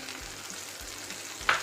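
Tempering spices sizzle in hot oil with a constant crackling hiss, a few soft stirring knocks and a brief sharper pop at the end.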